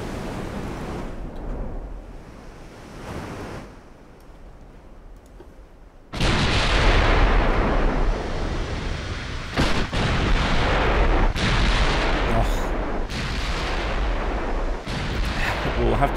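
Battleship main guns firing in Ultimate Admiral Dreadnoughts, a WW2 German Bismarck against Nelson naval engagement: a quiet stretch of sea ambience, then a loud booming salvo followed by sustained rumbling gunfire with repeated sharp blasts.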